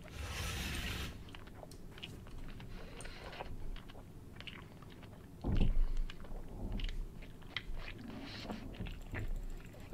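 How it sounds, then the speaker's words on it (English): A hole in the horror video game Chilla's Art Jisatsu makes a steady munching noise: repeated crunchy chewing and biting clicks, fairly close, with a heavier burst partway through and no talking. "Are we hearing the hole munching from all the way in here?"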